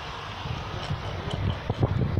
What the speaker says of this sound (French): Il y a un beau vent aujourd'hui, comme vous pouvez vous en apercevoir.